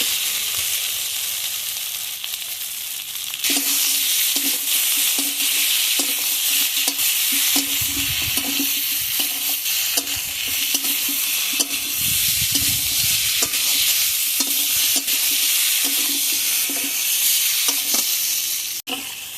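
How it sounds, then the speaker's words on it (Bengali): Fried taro pieces are stirred with dry spices in a hot pan, giving a loud, steady sizzle and frying hiss throughout, broken by repeated scraping strokes of a spatula. "শুকনো মশলাগুলো এখন ভালোভাবে কষিয়ে নেব ভেজে রাখা কচুর মুখিগুলো দিয়ে দিচ্ছি"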